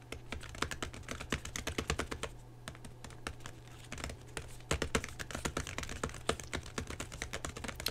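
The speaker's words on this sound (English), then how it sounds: "Let me just type up this message here." Rapid, steady clicking of keys on a computer keyboard as a message is typed, close and soft over a low constant hum, with a brief pause partway through.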